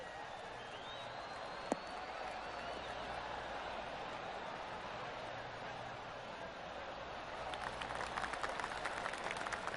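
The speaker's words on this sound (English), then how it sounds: "golf clap" Faint, distant crowd murmur in the golf video game PGA Tour 2K23 swells into light, scattered polite golf clap near the end, with a single sharp click early on.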